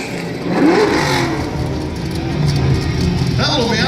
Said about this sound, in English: That little Miata's nasty sounding